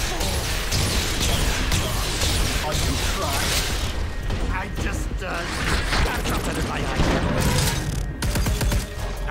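Heavy gun blasting in a PlayStation VR shooter game, a dense, continuous barrage of gunfire, crashes and explosions filling the whole stretch, loud and close with a voice speaking over it.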